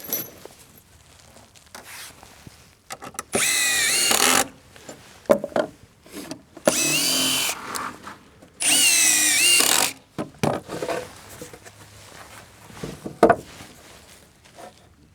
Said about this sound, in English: I just put one screw in these boards